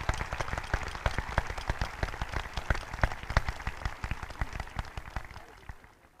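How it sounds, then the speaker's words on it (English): An audience at a Greenville High School commencement applauds for early college graduates, dense sustained clapping from a large crowd that fades out at the end. "A round of applause, please, for our early college students"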